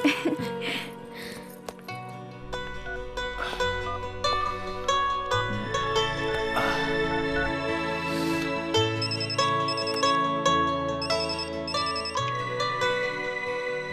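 Mobile phone ringtone for an incoming call from a college friend, a melodic electronic tune with steady notes and a low bass line, playing loudly and continuously throughout with no talk over it.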